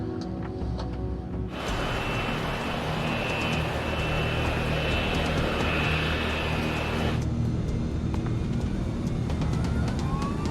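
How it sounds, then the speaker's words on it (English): Airliner jet engines spool up to takeoff thrust, a loud broadband roar that rises sharply, holds steady for several seconds, then eases to a lower steady drone heard from inside the aircraft. "Takeoff thrust is set."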